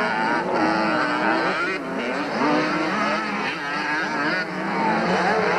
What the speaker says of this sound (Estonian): 86 centimeetrit sellistel ratastel kihutamas praegu mehed rajal